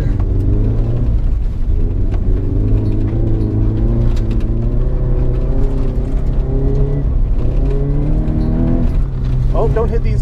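A Subaru BRZ on a rallycross course, its engine a steady loud drone that rises and falls as the car accelerates and brakes between cones, with a voice speaking over it throughout.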